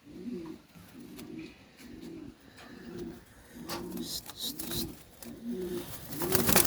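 Pigeons coo in a steady run of about eight low, rounded pulses close by, with faint chirps and light handling noise over them; the pair are fancy pigeons, a cock and a hen with long five-to-six-inch feathers.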